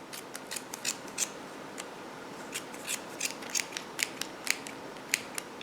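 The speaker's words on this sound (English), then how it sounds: "Then I'm just going to take and cut down the center" Embroidery scissors snip through yarn on a pom-pom maker in a quick, irregular series of small, crisp cuts, close and quiet with no talking.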